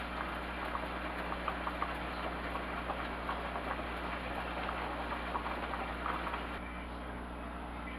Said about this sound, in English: Now that's a low simmer.